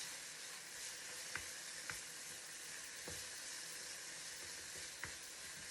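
Fresh garlic sizzles steadily in hot oil in a pan, a continuous bright hiss broken by a few sharp clicks as it is stirred, with no talking.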